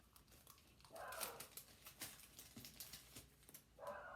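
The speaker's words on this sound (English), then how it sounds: "Sorry if you can hear my dog in the background." A dog barks and whines in the background of an indoor room, faint, short repeated yelps scattered across a few seconds with light rustling and crinkling nearby.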